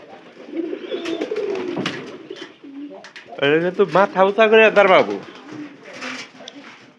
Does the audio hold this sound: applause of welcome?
no